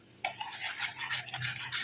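Steady scraping and swishing of a utensil stirring a thick homemade hair-dye mixture in a pot, continuous and close, with no talking.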